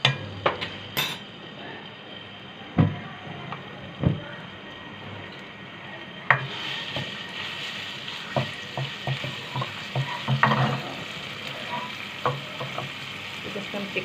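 Garlic ginger paste fries in oil in a pan for chicken white sauce, giving a continuous crackling sizzle that swells partway through, with sharp clinks and taps of a spoon against the pan; close, no talking.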